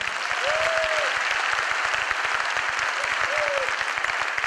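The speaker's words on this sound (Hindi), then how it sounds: "क्या एक बार जोरदार तालियां बजा सकते हैं?" Steady applause from an audience at a business opportunity meeting fills the scene, with a whistle-like tone rising briefly twice over the clapping.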